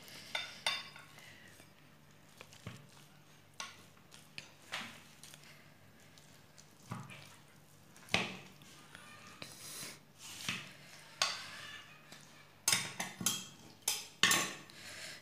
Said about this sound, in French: je vais couper donc pour voir à l'intérieur les étages qu'on a fait